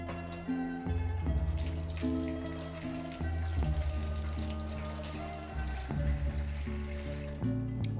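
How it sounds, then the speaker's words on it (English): Fresh basil is rinsed under a running kitchen tap. Water splashes steadily at close range with changing tones as the leaves move under the stream, and there is no talk. "rinse the basil off"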